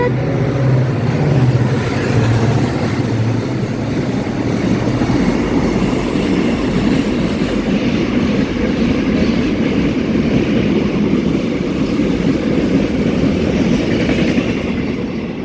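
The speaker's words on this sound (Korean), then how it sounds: "화물이다 화물" A diesel freight train rumbles past nearby at Jiksan Station, South Korea, loud and steady, with a low engine drone and continuous rolling wheel noise throughout.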